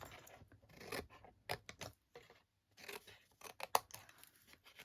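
Scissors snip wedges off both sides of a card gift box lid in a quiet room, giving several short, close cutting strokes with brief pauses between them.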